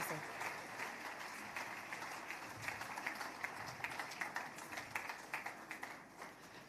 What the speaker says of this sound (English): Wow, a round of applause.